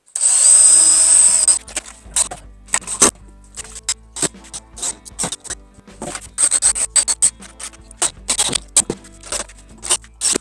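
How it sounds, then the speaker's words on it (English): A power drill whines in one short burst pre-drilling wood, followed by scattered clicks, scrapes and knocks of work on wood. "Pre-drill this so it doesn't split."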